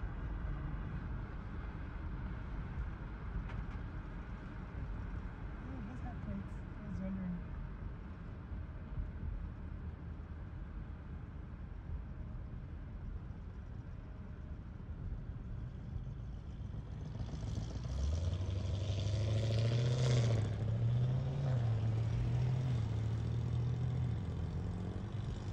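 A UFO-styled car rolls down a street in Roswell during the 2023 UFO Festival. A steady low engine and road rumble swells into a louder, closer hum about two-thirds through, with no talking.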